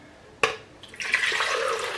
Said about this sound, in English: I'm going to fill that with oat milk, this amount.